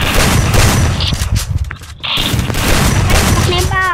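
Gunfire from the Free Fire battle royale game, including shotgun play: dense, loud bursts of shots and booms that dip briefly midway before resuming, heard alongside people talking.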